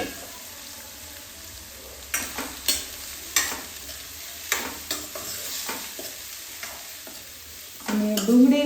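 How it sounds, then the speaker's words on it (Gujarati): Chopped onions sauté with asafoetida in a pan for a Kathiyawadi roasted brinjal bharta, giving a steady close sizzle broken by several sharp scraping stirs, and a brighter spatter near the end. "અને ડુંગળીને આપણે સાંતળી લેશું।"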